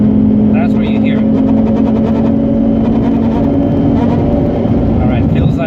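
A Mazda RX8 rotary engine revved hard toward 7,000 rpm, a loud steady high-revving drone with a rattling knock at high revs, while a person talks over it.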